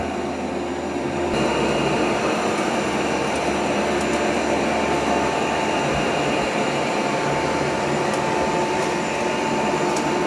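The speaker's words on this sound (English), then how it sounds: "Whoops, looks like the Dyson ran over that cord." A Dyson 360 robot vacuum runs with a steady whirring motor hum and brush drone, close and loud, rising slightly in level as it drives over a cord on the floor.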